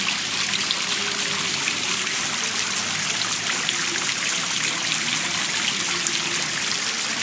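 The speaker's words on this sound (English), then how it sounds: "they sure have a lot of water fountains around here." Water fountains trickling at an outdoor shopping centre, Fashion Island in Newport Beach, a steady splashing, dribbling wash of water heard nearby with no talking over it.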